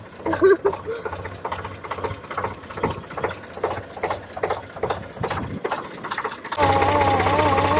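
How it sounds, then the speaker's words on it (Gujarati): A tractor engine chugs steadily nearby, running slowly, while people talk over it, then the engine drone comes through louder and unbroken at the end. "અમારું ટ્રેક્ટર હાવ ધીમું ધીમું હાલે છે"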